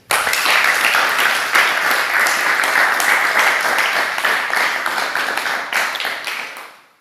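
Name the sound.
congregation applause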